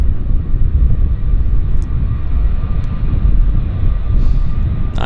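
An airliner on flight 1788 to Las Vegas makes its takeoff roll at Vancouver airport, a loud, steady jet rumble with a whining tone held throughout.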